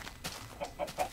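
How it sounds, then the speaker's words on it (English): A chicken in Minecraft gives several quiet clucks, short and evenly spaced, faint and alone. "No, it's a chicken."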